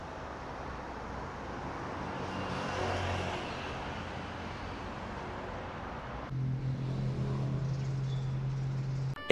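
A taxi's car engine hums steadily from inside the cabin during a ride, with road noise throughout and a lower, steadier drone taking over near the end.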